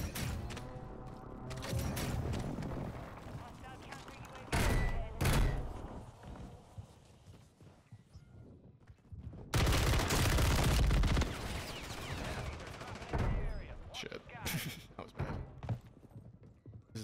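Pistol gunfire in Call of Duty Warzone on Rebirth Island: bursts of loud shots and clusters of sharper cracks mixed with battle noise and mechanical clatter, with a person talking over parts of it.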